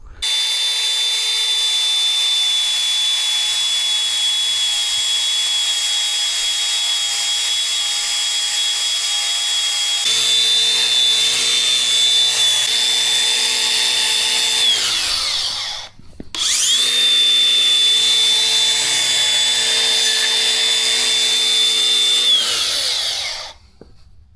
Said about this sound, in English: I'm going to take this beveled grinder and grind all of these joints